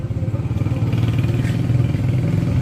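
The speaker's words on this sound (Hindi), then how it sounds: "ये बाइक वाला चला गया पहले।" A motorcycle engine runs steadily on a foggy winter road, a continuous mid-pitched motor drone with slight pulsing that stays fairly loud throughout before moving off.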